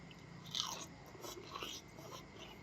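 Crunchy bites of fresh shrimp papaya salad being chewed up close, a few crisp crunches spaced through a couple of seconds over low background hiss, with no talking.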